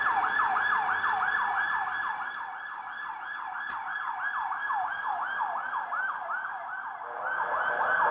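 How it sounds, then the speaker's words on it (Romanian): An emergency vehicle siren wails loudly in a street in Bucharest, sweeping up and down in a steady rhythm as it passes close by over low traffic rumble, with no talking. "probabil să luăm o mică pauză până trece sirena"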